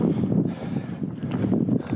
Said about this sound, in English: I might get the mic out because it's quite windy